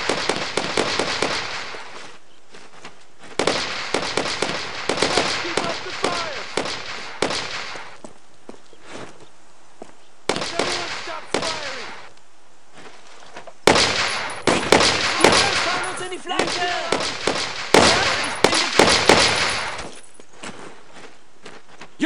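Gunfire from Brothers in Arms: Road to Hill 30 comes in repeated loud bursts of rapid shots, with short lulls between volleys and a long rattling exchange near the end.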